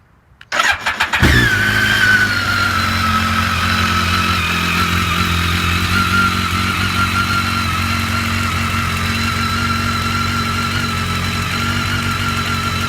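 A 2009 BMW K1300R motorcycle engine cranks and fires, then settles into a steady, loud, close idle for the rest of the clip.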